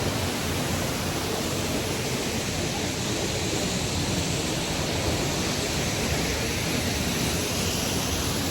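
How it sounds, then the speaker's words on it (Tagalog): Veghvtakhevi waterfall, 22 meters tall, in the Abanotubani sulphur bath area of Tbilisi, Georgia, roars in a dense, steady, unbroken rush of falling water heard up close with no other sounds. "Veghvtakhevi waterfall is one of the Asian place, Abanatu Bani or the Sulphur Bath area. The waterfall is 22 meters tall."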